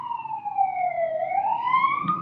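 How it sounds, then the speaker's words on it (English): An emergency vehicle siren wails past, its tone sliding down and then climbing again in a steady, loud sweep with no talking. "I'm gonna wait for that siren to pass."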